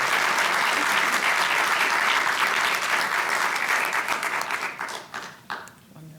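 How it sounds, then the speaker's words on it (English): At an annual awards ceremony an audience gives sustained applause, a dense, loud roar of clapping that thins and fades toward the end. "let's give her a big round of applause."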